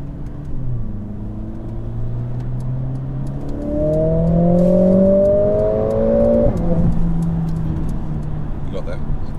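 A Mercedes-AMG A45 S, with 420 horsepower, revs and accelerates on the road, its engine note rising through gears with a surging exhaust and faint crackles, while people talk inside the car.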